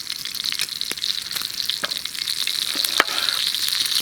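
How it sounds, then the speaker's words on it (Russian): Meat sizzles in a frying pan over an outdoor bushcraft fire, a steady hiss with occasional crackles and pops, close and continuous with no talk. "Пока мясо жарится"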